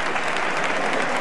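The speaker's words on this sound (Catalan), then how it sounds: "I miren vostès l'entusiasme que està aplaudint el públic." Spectators at a 1995 frontó pelota match in Albal applaud two players, a dense, loud burst of crowd clapping filling the whole moment.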